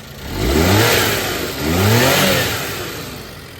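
A Suzuki Jimny JA11 engine revs twice in quick succession, swelling and falling back each time, close by with no talking.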